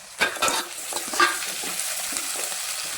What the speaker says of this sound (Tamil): இப்போ ஒரு சின்ன சைஸ் தக்காளியை நான் சின்னதாக கட் பண்ணி வச்சுருக்கேன், அது போட்டுக்கலாம்